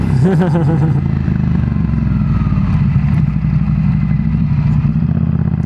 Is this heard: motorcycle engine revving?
yes